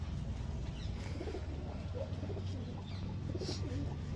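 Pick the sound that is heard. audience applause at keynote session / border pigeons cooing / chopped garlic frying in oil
border pigeons cooing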